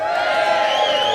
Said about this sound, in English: Give us a shout out if you're here to cheer for someone in particular tonight